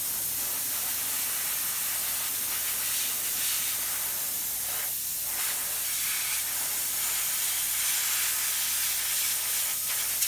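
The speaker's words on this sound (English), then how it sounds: "So a little hiccup with the spray gun. So hopefully it's working now." An airbrush spray gun hisses steadily and continuously, a close, even spray of air lasting the whole stretch with no talking.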